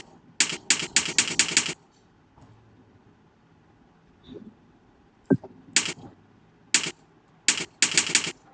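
Paragraphs typed on a computer keyboard make sharp, close key clicks in quick bursts separated by short pauses.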